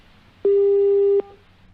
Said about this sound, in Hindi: चलिए, फोन डिस्कनेक्ट हुआ।